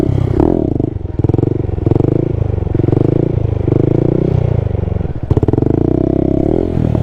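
Honda Grom stunt motorcycle held at the rear brake balance point: a loud, close single-cylinder engine burbles and revs in repeated surges as the brake is feathered lighter and harder, with brief clattering bursts.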